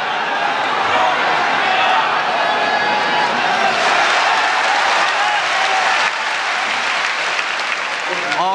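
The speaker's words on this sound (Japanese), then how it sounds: "大木選手にも盛大な拍手が送られました" Wrestling crowd at a 1975 Giant Baba vs Kintaro Oki match gives Oki a big, loud ovation of dense, steady applause filling the arena without a break.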